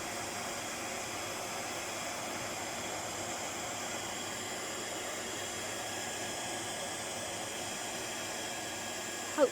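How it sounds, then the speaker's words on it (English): A heat gun blowing steadily up close while melting embossing powder on a floral card, giving a constant even hiss and whir with no breaks and no talk. "you want to move your heat gun"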